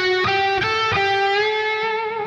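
Distorted electric guitar plays pentatonic scale pull-offs, with a few quick picked notes that ring into one sustained, buzzing tone that slowly fades, heard alone and close.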